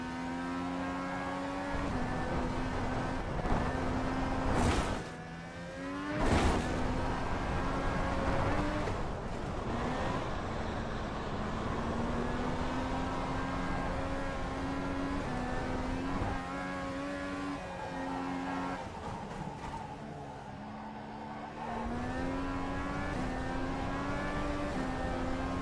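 An FIA Cross Car in iRacing runs a rally course at Daytona, its engine droning and revving steadily through gear changes with a couple of sharp upshift blips, loud and continuous throughout.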